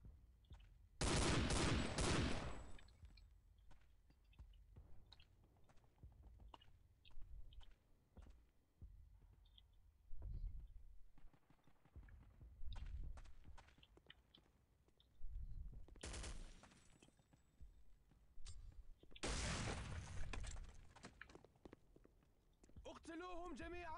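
Machine gun fire in a video game, with a few loud, dense bursts of rapid shots separated by quieter stretches of clicks, footsteps and scattered distant gunfire.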